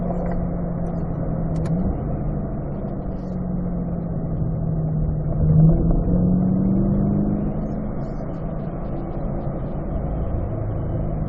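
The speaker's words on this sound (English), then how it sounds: "Start to accelerate back up the hill." Car engine at a performance driving school pulling uphill under acceleration, a steady loud in-cabin drone whose pitch rises and swells midway, then settles back.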